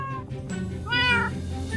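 A pet cat named Snowball in Minecraft meows twice, a short call followed by a longer, rising-then-falling meow, close and clear over a low background hum.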